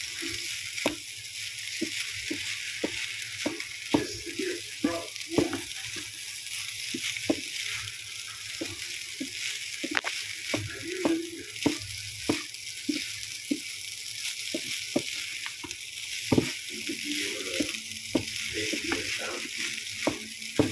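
Vegetables and onion sizzle steadily while frying in a pan, a constant bright hiss broken by frequent clicks and scrapes of stirring, with a voice talking occasionally over it.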